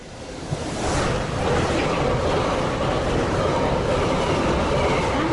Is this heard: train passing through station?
yes